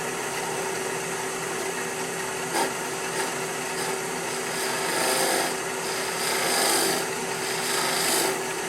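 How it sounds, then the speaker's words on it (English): A single-edge negative rake scraper works across turning wood in a steady, continuous rasping scrape with a faint tonal hum beneath, the rubbing swelling slightly louder toward the end, with no voices. "Let me go ahead and get out my single edge negative rake scraper."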